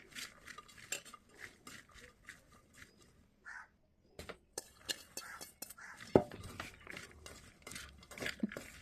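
Chopped onion, green chili and val (field bean) bhaji tossed together in a bowl for an oil-free Konkan-style dish, giving soft, close, irregular scrapes and light clinks, with a faint murmur of voice at times.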